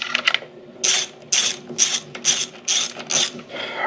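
A ratchet tightens bolts on a spring assembly in a workshop, six rapid bursts of clicking strokes in a steady rhythm, close and fairly loud, after a few quick lighter clicks.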